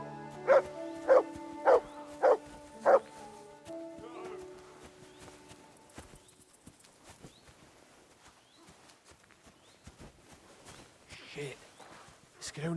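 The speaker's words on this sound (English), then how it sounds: "Good dog. Good dog, Mats." A dog barks five times in a quick, evenly spaced run of loud, close barks in the medieval role-playing game Kingdom Come: Deliverance II. Quieter game ambience and faint footsteps follow.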